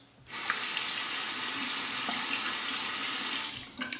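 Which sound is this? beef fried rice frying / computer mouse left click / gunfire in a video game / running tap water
running tap water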